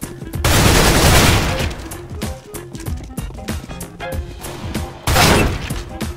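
Rapid gunfire bursts in Counter-Strike: Global Offensive, loud sprays of automatic fire with scattered single shots and impacts between them, close and dense, over faint background.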